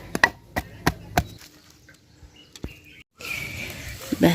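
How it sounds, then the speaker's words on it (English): Ginger being crushed for pineapple-ginger juice in an African village, heard as several sharp pounding thuds in a steady rhythm, then a pause and rustling outdoor ambience with birds chirping in the background. "So right now I'll go ahead and crush our ginger."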